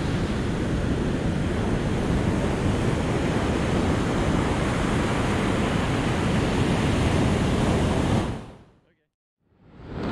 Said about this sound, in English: the wind is blowing into my face now